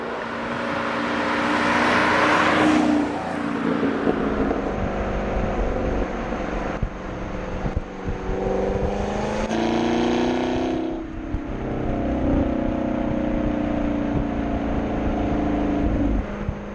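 Camaro SS V8 cruising in touring mode, a steady engine rumble that rises and falls with gentle gear changes and throttle, heard from close by with no talk.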